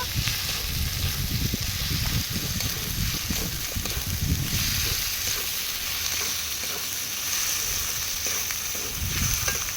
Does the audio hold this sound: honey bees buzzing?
no